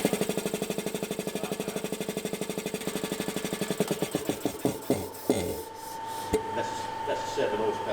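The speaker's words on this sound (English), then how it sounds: "That's a 7 horsepower motor in there." An old 7 horsepower engine chugs close and loud with a fast even pulse, then the firing loosens, falters and winds down into a low hum, with voices talking briefly.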